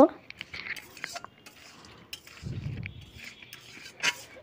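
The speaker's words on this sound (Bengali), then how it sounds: "এখানে দিয়ে দিচ্ছে গরম মশলা, দিয়ে ভালো করে নেড়ে চেড়ে একদম কষিয়ে রসিয়ে নেব" Crab with garam masala gets stirred in a pan, with scattered scrapes and light metallic clinks of a spatula, plus a low rumble of cooking in the middle.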